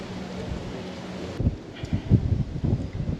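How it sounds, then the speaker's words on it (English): Strong outdoor wind buffets the microphone in low rumbling gusts during work on a Lexus GS460 engine, with a steady roar at first and then several louder irregular blasts. "It is so windy"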